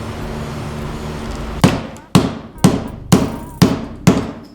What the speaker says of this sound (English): I'm now using a ball peen hammer on a body right after I finish trying to lecture people